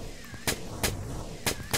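Gunfire in a video game: four sharp, booming shots spaced irregularly over under two seconds, loud against a low, steady game ambience.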